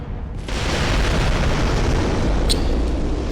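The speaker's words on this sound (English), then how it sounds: "that explosion is so loud" An explosion in the Bloodborne video game erupts loud and sustained, a dense roaring blast filling the moment after a short quiet lead-in, with a faint sharp tick near the end.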